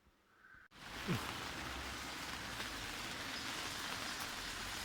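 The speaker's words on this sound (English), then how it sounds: "It's raining again" Steady rain hisses and patters continuously outdoors during stonework after a brief quiet moment at the start, broad and even, with no voices.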